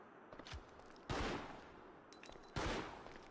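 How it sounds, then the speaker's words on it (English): Two sharp, loud blasts ring out a second and a half apart, each decaying over a moment, as a mine shot with a pistol explodes in Resident Evil Outbreak; faint lighter taps precede them. "Can you even shoot mines with a pistol?"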